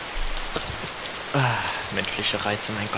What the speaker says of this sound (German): Aber bei mir läuft hier schön der Regen durch